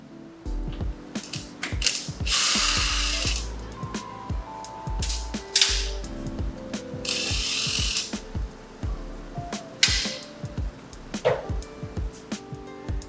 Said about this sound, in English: we're using a 17mm socket to get that off